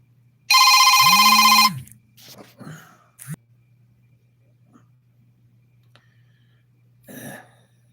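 A telephone rings once in a loud, bright electronic burst lasting about a second, followed by a throat clearing, a few soft knocks and handling noises in an otherwise quiet room.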